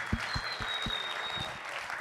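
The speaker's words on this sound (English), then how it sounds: "let's give her another round of applause just for coming here today" A live audience at a gaming championship in Las Vegas claps in a steady, dense burst of applause that lasts about two seconds with no break, heard alone.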